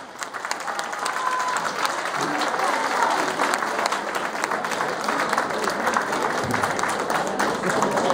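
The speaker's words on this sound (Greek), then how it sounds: "γιατί χειροκρότημα είναι αυτό" An audience at a school choir festival breaks into applause, a broad, sustained patter of many hands rising quickly and holding steady, with faint voices mixed underneath.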